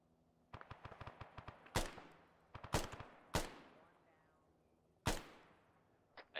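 Gunfire in the military video game ArmA: a rapid burst of automatic shots followed by several loud, sharp single cracks spaced irregularly, close and fairly loud.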